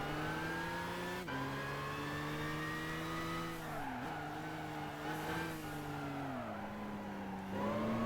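A race car engine in Gran Turismo 5 drones steadily throughout, its pitch dipping and climbing through shifts and corners, with brief tire squeal, loud and continuous with no talk.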